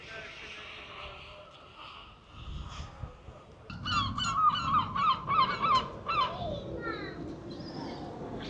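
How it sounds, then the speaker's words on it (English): Seagulls at the Hastings seaside squabble over food, a burst of repeated shrill honking calls in quick succession rising over a bustling shoreline background with people talking nearby. "Seagulls are out fighting for food as usual."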